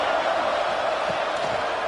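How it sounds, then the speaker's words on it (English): A football stadium crowd roars in a steady, dense wash of cheering and shouting, loud and continuous throughout with no single voice standing out. "Listen to the crowd energy here in the early going."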